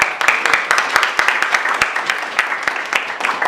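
Audience applause at a men's tie ceremony, a dense crowd of many hands clapping steadily throughout, bright and sustained with no pause.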